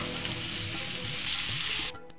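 Samosas bubble and sizzle steadily in hot oil, a loud, continuous frying hiss that drops away abruptly near the end.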